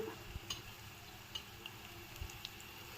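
Chopped onion, green chilli and curry leaves fry in oil in a pan, giving a faint, steady sizzle with a few soft clicks and stirring scrapes.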